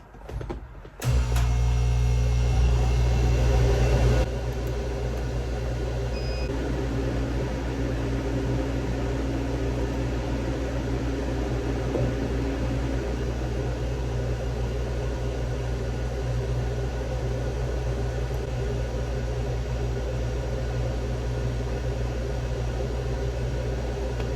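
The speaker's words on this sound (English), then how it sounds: "I'm going to turn the laser cutter on now, so this will get loud probably." A Cloudray CR7050 laser cutter switching on: a steady mechanical hum with a low drone and fan-like whir starts after a sharp click and continues evenly at moderate loudness, with no talking.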